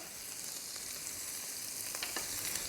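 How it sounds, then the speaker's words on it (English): Sesame oil crackling in a hot pan with freshly grated ginger, a steady moderate frying hiss with scattered small pops. "We're going to add some sesame oil."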